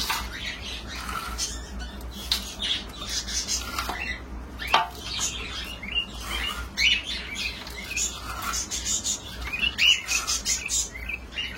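Pet birds in an indoor bird room chirp and tweet constantly, a busy chorus of overlapping high calls and squawks, close and fairly loud, with occasional clatter of dishes.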